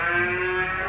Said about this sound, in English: A cow. A cow